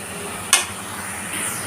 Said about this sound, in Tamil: சுண்டல் போட்டு ஒரு நிமிஷம் வந்து அது வதங்கட்டும், மிக்ஸ் ஆகட்டும்